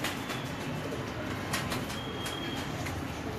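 Low pigeon cooing rolls on at a Lahore loft as a bird comes in, steady under a few sharp clicks and a thin whistling tone, with no one speaking.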